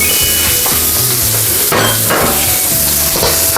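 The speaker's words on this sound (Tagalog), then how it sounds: "stir lang po natin ang ating carrots ng mga 2 to 3 minutes" Carrots stir-fried with pork in a pan: loud continuous sizzling with repeated scraping and knocking of a utensil against the pan, a burst of stronger hissing midway, no voices.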